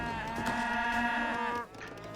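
Sheep bleat in Age of Empires III, a sustained wavering bleat with strong harmonics lasting about a second and a half, close and loud, ending abruptly into quiet game background.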